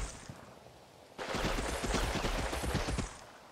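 Gunfire from snipers in a World War II game battle at Venafro, a dense rattling burst of shots that starts abruptly and continues for about two seconds, loud and close.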